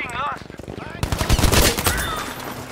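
Gunfire in the shooter game Battlefield V on the Lofoten map: rapid bursts of close, loud shots and automatic fire roll in after a quiet first second, with team voice chat over the action.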